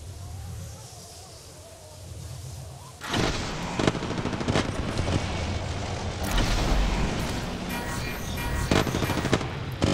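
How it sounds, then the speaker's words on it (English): Enemy gunfire in the mobile battle royale game Apex Legends Mobile during a squad fight: sustained bursts of automatic weapon fire erupt after a quiet stretch and keep rattling loudly and densely, with scattered sharper cracks layered on top. "the enemies are shooting at me. I am taking fire, friends."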